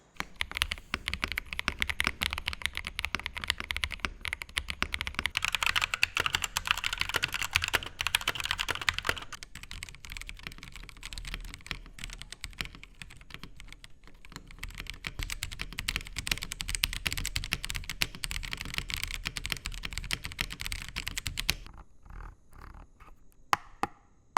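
Rapid typing on a Kreo Hive65 65% mechanical keyboard, a quiet model, a dense stream of quiet clicks that continues for most of the time, then thins to a few final taps.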